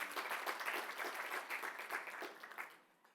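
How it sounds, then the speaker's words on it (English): Applause from a festival launch audience, a dense, steady patter of many hands clapping at moderate distance that fades out toward the end. "give him a round of applause"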